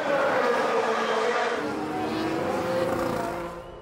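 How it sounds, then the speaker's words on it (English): A Formula 1 car at the 2019 Bahrain Grand Prix, heading into the final corner, gives a steady loud engine roar with a shifting pitch for almost four seconds and fades slightly at the end, with no talk over it. "So Lewis Hamilton down towards the final corner, takes the lead of the Bahrain Grand Prix."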